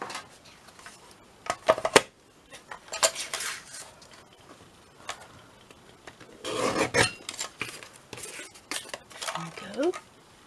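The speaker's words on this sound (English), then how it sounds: "Let me just chop it in half." Paper card being cut in half during card-making, heard as short scissor snips and rustling handling sounds with quiet gaps, close and moderately loud, with no talk over it.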